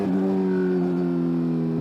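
A 2025 Kawasaki Z900 SE motorcycle fitted with exhaust block-off plates holds a loud, close, steady rev, its strong humming engine tone sustained without a break for the whole short stretch.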